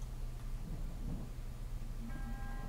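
Low, steady thunder rumbles through the land of thunder in Zelda: Breath of the Wild, a continuous distant roll mixed with a soft wash of rain, with no one speaking.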